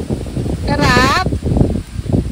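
Wind at a nature farm rushes and buffets against the microphone in a loud, steady roar, with a short voice rising briefly in the middle.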